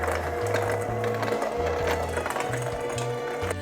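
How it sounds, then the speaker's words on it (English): A stand mixer churns crumbly shortbread dough, a steady motor whir with a rhythmic low thumping pattern and rattling, loud and continuous throughout. "we're gonna take our stand mixer and mix until combined"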